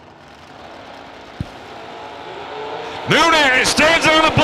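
At a drag strip Spring Nationals event, a Fuel Tech FTI hot rod's engine rumbles and swells over a few seconds, then a commentator's voice talks loudly over the distant roar.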